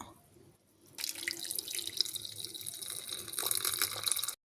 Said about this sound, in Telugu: అది వేడి నీళ్ళు వేసుకొని నానవేసుకుంటున్నాను.